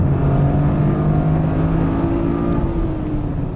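A Toyota GR Corolla's 1.6-liter turbocharged inline-three engine drones loud and close, holding a steady throaty tone that eases slightly toward the end.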